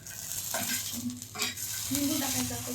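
Green chilies roasting in a little oil, giving a continuous close sizzle and crackle with spatula stirring strokes scraping through it; no one talks.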